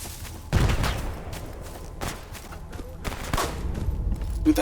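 In S.T.A.L.K.E.R. Anomaly, a grenade blast bursts with a heavy low thump, followed by sharp cracks and further bangs of gunfire in a tense firefight.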